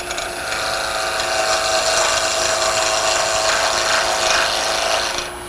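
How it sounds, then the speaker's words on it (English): A wood lathe turns a cross-drilled Christmas ornament while the cutting edge is brought against the spinning wood, producing a steady, loud, close mechanical whir and scraping that holds evenly for several seconds, with no talking. "I'm putting the bevel on the wood and then bringing the cutting edge up until it just starts to cut"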